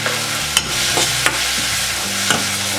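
Onion and tomato fry with Konkani masala in a pan, a low steady sizzle broken by several sharp scraping stirs of a spoon against the pan.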